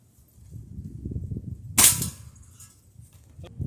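A single sharp crack from a Gamo Whisper Fusion Mach 1 .22 air rifle firing a pellet outdoors, close and loud, over a low background rumble, followed by a faint later tap.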